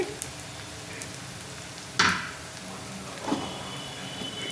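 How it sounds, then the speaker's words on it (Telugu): Sliced onions frying in oil for a chicken curry, a low, even sizzle with two louder scrapes of a spatula against the pan partway through, no talking. "చక్కగా ఫ్రై అయిపోవాలి ఆయిల్లో. ఉల్లిపాయలు ఇలా వేగాక దీనిలోకి"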